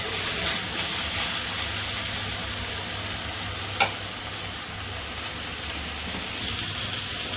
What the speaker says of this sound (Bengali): ঢেঁড়স ভাজাটা হচ্ছে, আমি এখন নুন হলুদ দিইনি, ঢেঁড়সটা একটু ভাজা হয়ে যাক